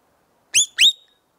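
A Birdyman whistle, wetted with water, gives two quick, loud, high squeaks that rise in pitch, each roughly a tenth of a second long and close together, heard alone in silence.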